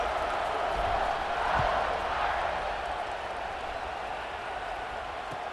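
Football stadium crowd at a Notre Dame game, a broad, steady wash of cheering and noise with a slight swell early on, sustained and distant-sounding throughout.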